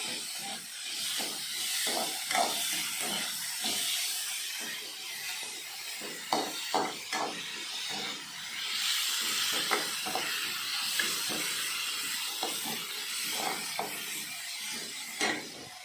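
Ginger garlic paste sizzles in a hot pan for hotel-style kurma, a continuous close hiss with scattered crackles and pops throughout.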